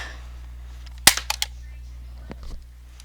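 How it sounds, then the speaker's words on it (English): A Nerf crossbow fires a shot: a sharp snapping crack followed by a few quick rattling clicks, then a softer clatter, all over a low steady hum. "I finally learned how to use a Nerf crossbow. So basically here, I'll fire a shot."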